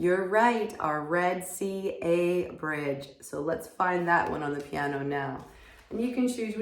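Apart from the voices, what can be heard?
No everyday noises stand out.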